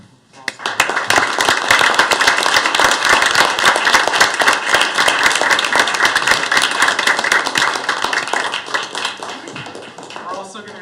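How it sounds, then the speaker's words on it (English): A round of applause at a city council meeting, crisp close clapping from a room of people that swells in quickly, holds steady for several seconds and then thins out. "If we could all give them a round of applause."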